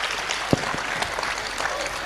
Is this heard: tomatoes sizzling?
no